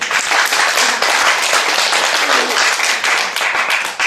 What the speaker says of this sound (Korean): 각자 할렐루야, 박수 한번